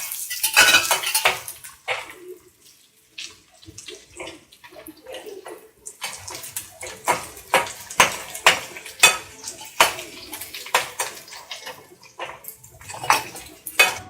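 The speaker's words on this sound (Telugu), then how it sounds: "ఈ విధంగా కొంచెం ఫ్రై అయ్యాక మనం వేరే బౌల్లోకి తీసుకుందాం." Pots, pans and metal utensils clatter and scrape in a home kitchen while cinnamon, cloves and other spices are fried in oil and moved into a bowl for Telangana-style chamagadda pulusu, with irregular clinks that get busier toward the end.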